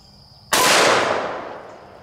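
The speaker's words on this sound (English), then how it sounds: "we're gonna start out with the 357 Magnum" A single loud, close .357 Magnum shot from a Taurus Raging Hunter revolver at an outdoor range, a sharp crack followed by a long decaying echo.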